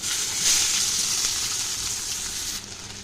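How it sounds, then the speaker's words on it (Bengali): Sliced potatoes and chopped onion sizzle steadily in hot oil in a pan after fish was fried in it, a loud, close, continuous crackling hiss that eases slightly near the end. "আলু পেঁয়াজ ভাজা হচ্ছে"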